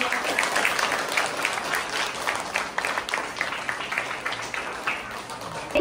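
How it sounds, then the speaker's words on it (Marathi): Steady, vigorous clapping from an audience at a school computer room inauguration, an even dense patter of many hands continuing throughout at moderate loudness. "जोरात टाळ्या वाजवा."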